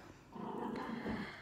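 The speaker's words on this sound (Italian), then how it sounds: "sentirete i cani che giocano dietro di me" A dog growls playfully at close range while dogs play, a low rumbling snarl that swells and holds for a moment.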